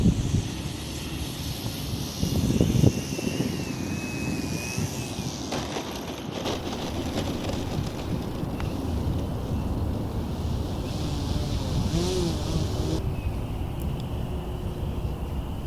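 A Hangar 9 Carbon Cub 15cc model airplane with a 90-inch wingspan on short approach landings, its engine a steady distant drone mixed with heavy wind rumble on the microphone throughout.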